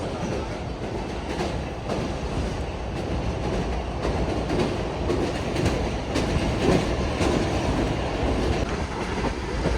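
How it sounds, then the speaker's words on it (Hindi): The Awam Express rumbles steadily past Bahran barrage, a continuous loud roar of wheels on rails with faint clickety-clack, heard from aboard the train. "बहरान बराज को स्किप कर रही है ट्रेन हमारे साथ।"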